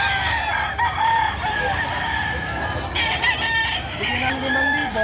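Roosters crow repeatedly at a busy gamefowl market in Padre Garcia, Batangas, with clucking fowl and a steady crowd murmur throughout, several birds calling near and far.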